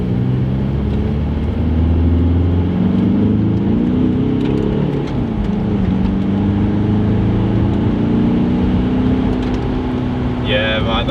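Audi A4 TDI with its EGR valve removed drives along, a steady mid-pitched diesel engine hum with shifting tones as it changes gear, heard from inside the car with voices talking over it.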